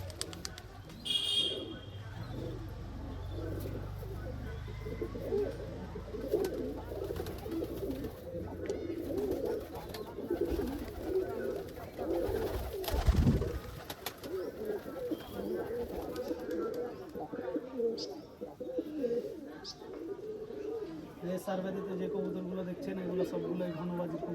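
Rajshahi giribaj pigeons coo and murmur at a loft, their soft calls running steadily throughout, with people talking over them.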